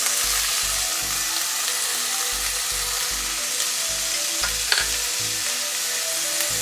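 Tomato and capsicum sizzle steadily in a hot pan while cooking a pepper mushroom curry, loud and continuous, with intermittent stirring scrapes.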